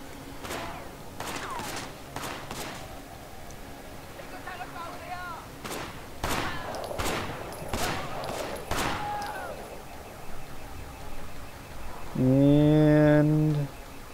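Gunfire from an open-world action game firefight in Sleeping Dogs, sharp bursts of shots scattered through the first ten seconds over a steady game soundscape, ending in a louder sustained tonal blare.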